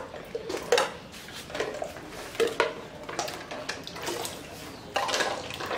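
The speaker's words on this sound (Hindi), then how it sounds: "एक एक मैं धोती जा रही हूँ साफ पानी से" Baby toys being washed by hand in a large tub of clean water, with splashing, sloshing and light plastic clatter in an uneven rhythm, close and alone.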